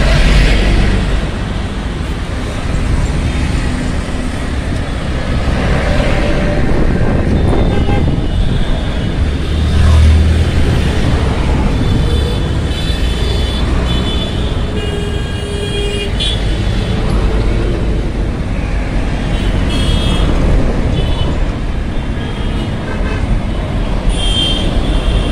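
Busy road traffic at a signalised intersection in Dhaka, a steady dense roar of cars, buses and trucks close by, with scattered horn toots rising over the continuous rumble throughout.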